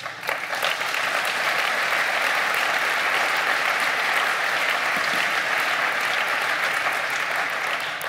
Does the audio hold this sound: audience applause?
yes